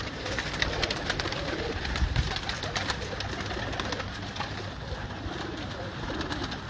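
Pigeons cooing in a loft, soft repeated coos over a dense, continuous bed of wing flutters and rustling, fairly close and steady.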